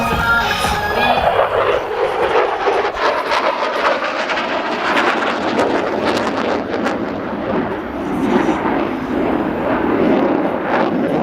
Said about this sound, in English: Major Easter will accelerate rapidly and snap the F-16 through a series of aileron rolls